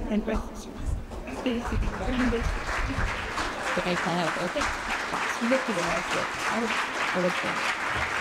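An audience at a poetry collection launch ceremony claps steadily and fairly loudly throughout, with voices talking over the applause.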